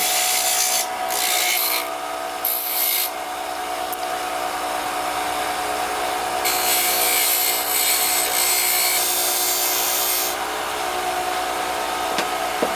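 A wood lathe spins steadily while a tool rubs and scrapes a small wooden tippy top, a continuous whirring hiss with bursts of brighter cutting noise, no voices.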